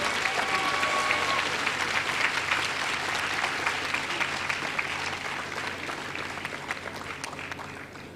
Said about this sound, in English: Kindly give Mr. Iton a huge round of applause.